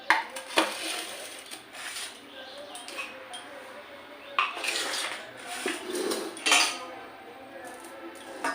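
Cutlery clinks and scrapes against plates and pots as rice is served onto a plate for a home lunch of dal, mashed potato, and ground long beans, in scattered bursts with quiet gaps between them.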